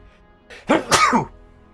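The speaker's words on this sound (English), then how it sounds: "I just had to sneeze" A single close sneeze with a short intake before a sharp, breathy burst, in an otherwise quiet room.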